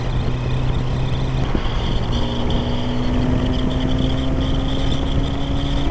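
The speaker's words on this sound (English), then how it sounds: "A little bit more wind than I'm used to, obviously, because there's no protection at all." Steady, loud wind roar buffets the rider on an unfaired Kawasaki Z900RS motorcycle, mixed with the continuous drone of its engine at cruising speed, with no talking over it.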